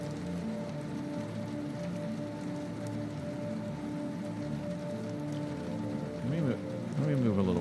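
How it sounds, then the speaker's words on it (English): Steady rain sound effect in a Unity first-person shooter, an even hiss of drops on surfaces with background music tones underneath and a voice talking over it near the end. "I have the music playing, and I have the rain playing."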